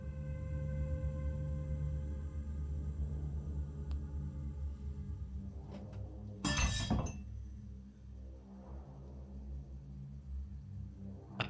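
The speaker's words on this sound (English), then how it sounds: "A piece of glass slides off the counter and shatters on the floor." A piece of glass slides off a counter and shatters on the floor in one loud, brief crash midway, set against a steady low drone and hum in a quiet room.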